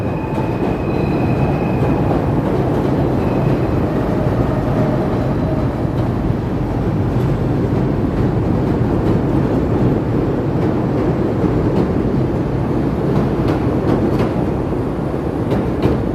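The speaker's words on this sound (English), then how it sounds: "We'll get the L train there." A Chicago elevated L train rumbles and clatters past continuously, with a steady roar of wheels on track and occasional faint metallic squeals.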